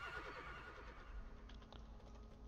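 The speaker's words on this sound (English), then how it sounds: "Those creepy echoey neighs." An eerie, echoing horse neigh from a mount in the World of Warcraft video game, quiet and wavering at the start, followed by soft scattered clicks.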